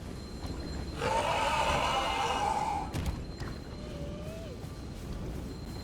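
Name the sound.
horse neighing in video game Elden Ring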